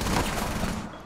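Video game gunfire in a tactical shooter, a dense, loud burst of rapid shots filling about a second and tapering off at the end, with no speech over it.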